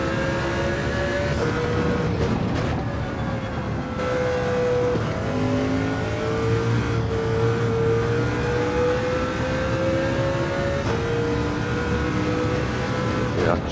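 A Mercedes CLK LM 98 race car engine drones steadily around Spa in Gran Turismo 7, pitch rising and falling through gear changes, with faint tire squeal and a voice talking over it.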